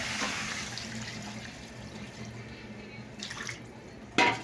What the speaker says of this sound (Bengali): তো মানে জল দিয়ে দিলাম